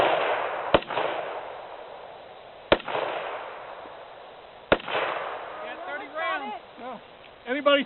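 Three sharp rifle shots at a Tannerite target, crisp cracks about two seconds apart with outdoor reverberation, followed by a whooshing engine-like sound and people talking nearby.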